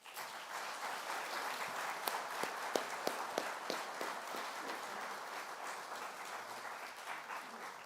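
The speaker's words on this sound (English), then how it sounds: "a round of applause for the 2023 Proceedings Author of the Year, Captain Matt Wright." An audience at a U.S. Naval Institute annual meeting applauds an award for author of the year, a steady, fairly distant wash of clapping with a few louder individual claps standing out, no talk over it.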